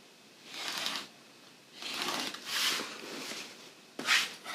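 A rotary cutter slides along a ruler edge through quilting fabric to cut a border strip, giving three or four soft, close scraping strokes separated by short pauses, the last one briefer and sharper.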